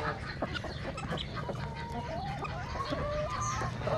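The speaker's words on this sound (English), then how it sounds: "Lilac, look at these chickens." Wet chickens cluck and murmur nearby in the rain, with a steady patter of falling rain underneath and brief higher calls rising over the flock.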